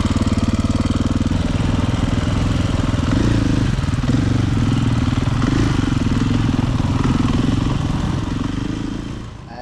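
Motocross dirt bikes roaring on the Gheerulla MX loop trail, a loud, steady engine drone held close for nearly the whole stretch before easing off at the very end, with no talk over it.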